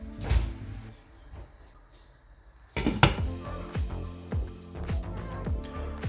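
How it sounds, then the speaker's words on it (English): A metal lid goes onto a soup pot of cabbage sour soup on the stove, giving a sharp clatter followed by several lighter clanks and knocks of cookware in a kitchen. "Now I'm gonna put the lid on and I'm gonna leave it to boil for 45 minutes."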